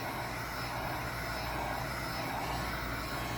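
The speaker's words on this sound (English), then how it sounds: "The biggest thing with the heat gun, do not hold it in the same position" A heat gun blows in a steady, loud, unbroken rush of air while heating the frame of a double balancer, with no voices over it.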